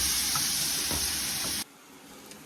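A pan sizzles loudly as apple cider vinegar hits it to deglaze during goose cooking, a steady bright hiss that cuts off abruptly, leaving quiet room tone.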